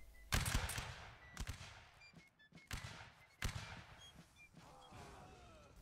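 Musket volleys crack out in a Napoleonic Wars line battle in Mount and Blade Warband, with several loud, ragged bursts of gunfire spaced a second or so apart, each one rolling into echoing reports.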